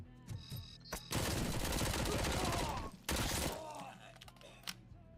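Heavy gunfire from a big gun in the video game RoboCop: Rogue City, a loud sustained burst of rapid shots followed by a second short burst, with scattered impacts and clatter around it.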